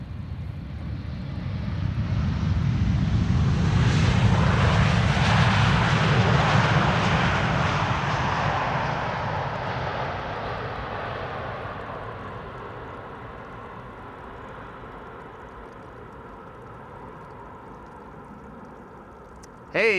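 A fixed-wing airliner arriving on runway 18R at Amsterdam Schiphol roars past, its engine noise swelling over several seconds and then fading slowly as it rolls away, with no voices.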